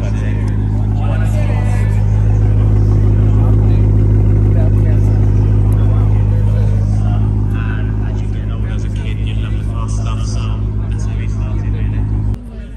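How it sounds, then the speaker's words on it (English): A BMW E92 M3 idles at Monterey Car Week, a loud steady low engine rumble close by, with crowd chatter and voices in the background. "E92 M3 idle."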